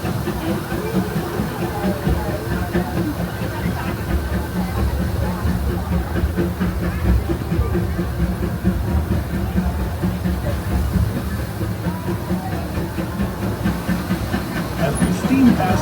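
Disneyland Railroad steam train rolling steadily along the Grand Circle Tour, a continuous low rumble and rhythmic chugging with soft hiss, heard under a narrator's voice.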